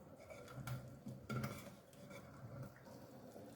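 Washed catfish is stirred into a pot of bitter leaf soup, giving quiet clinks and scrapes of a utensil against the pot with a faint bubbling underneath, close but low in level, with no talk.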